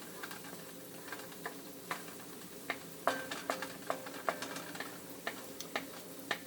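Scrambled eggs with turmeric and wheat germ cook quietly in a pan, giving a soft, faint sizzle broken by irregular small ticks and pops, with no voices.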